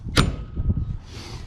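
The entry door of a Thor Hurricane 34J RV, fitted with a new latch, shuts with one sharp, close thud, followed by a low rumbling tail.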